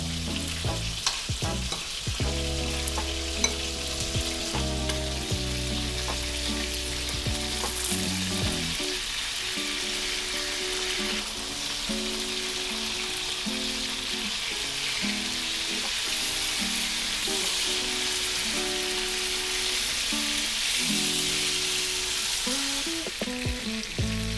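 Tuna steak fries in oil in a pan, giving a loud, continuous crackling sizzle throughout, with occasional clinks of a utensil stirring.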